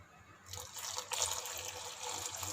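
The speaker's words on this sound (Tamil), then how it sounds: "இந்த மாதிரி அந்த பவுடரை பேனில் சேர்த்ததுக்கப்புறமா தண்ணி சேர்த்துக்கிறேன்." Water poured into a pan of ground urad dal powder while making kali, a soft steady splashing pour that starts abruptly and continues, close and fairly quiet, with no talk.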